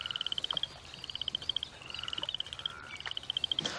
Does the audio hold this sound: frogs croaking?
yes